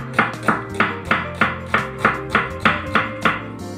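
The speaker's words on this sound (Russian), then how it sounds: "Нарезать нужно соломкой." A knife chops steadily through onions on a cutting board, slicing them into strips, about a dozen evenly spaced crisp strokes in a quick regular rhythm.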